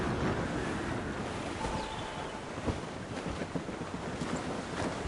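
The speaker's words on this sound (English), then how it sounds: "I don't like that wind, sir!" Blustery wind and rolling surf at sea in Assassin's Creed Rogue, a steady broad rush of gusts and breaking waves with faint creaks from a sailing ship, continuous and moderately loud throughout.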